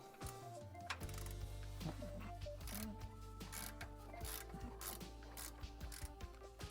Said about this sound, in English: I'm going to take my 1/2-inch gear wrench ratchet with a 15mm socket